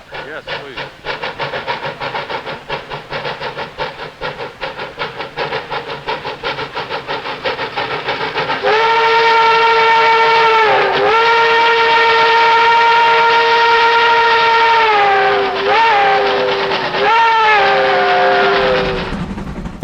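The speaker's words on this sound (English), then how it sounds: "Another whistle? Yes, please." Pickering Lumber steam locomotive number 8 chuffs rapidly, then blows a loud, long chime whistle close by, sustained for several seconds with a few short breaks and pitch dips before trailing off.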